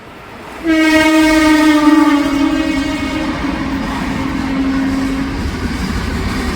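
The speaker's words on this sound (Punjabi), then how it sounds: "ਸਾਹਮਣੇ ਕੋਈ ਟ੍ਰੇਨ ਆ ਰਹੀ ਹੈ ਬਹੁਤ ਤੇਜ਼ ਉਹ ਇੱਥੋਂ ਸਕਿਪ ਕਰਕੇ ਜਾਏਗੀ" A loud train horn sounds a long, steady blast that fades as a fast train rushes through Rajpura Junction station without stopping, leaving a rumbling roar of wheels and carriages.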